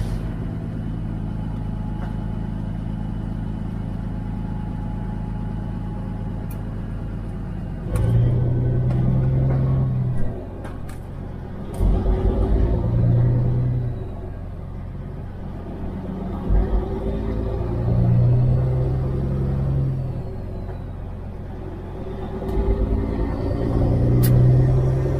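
A truck engine, likely an 18-speed rig, rumbles steadily while driving on the road, with deeper surges of revving at intervals as it pulls along, close and continuous with no talking.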